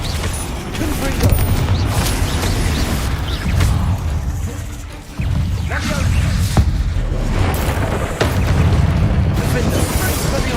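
Blasting-spell explosions in Hogwarts Legacy, booming bursts and whooshes repeating through a busy magical duel, loud and dense, with a voice shouting spell names over the fight.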